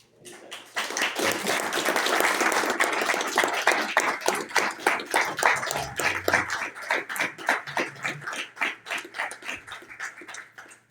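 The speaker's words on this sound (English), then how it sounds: "Very well-deserved rounding applause there." Applause at a town council meeting in Marion, Virginia honors a police detective, beginning as a thick crowd clap that thins into sparser, distinct individual claps as it winds down and fades out.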